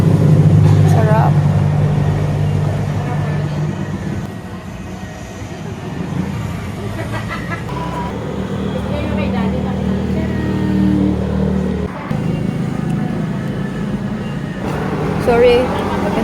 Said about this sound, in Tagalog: kasi ang dami naming sasakyan na dumadaan